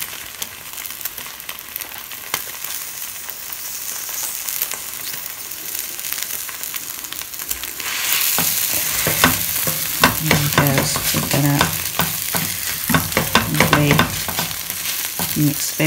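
Egg and mixed vegetables fry in a pan, a soft sizzle that turns louder and busier halfway through as the food is flipped, with scraping and stirring clicks over the hiss.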